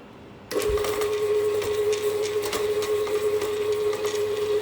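A stand mixer fitted with a paddle and guard runs on speed 1 through butter pastry, starting abruptly into a steady motor hum with a clear tone and light rattling knocks as the butter breaks up.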